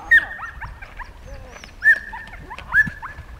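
A four-year-old sheepdog, herding sheep for the first time, gives three short whining yelps at a moderate distance, spaced about a second apart, over a quiet outdoor background.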